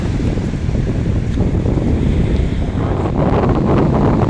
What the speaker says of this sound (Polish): No, oczywiście, że zimna. To ocean w końcu.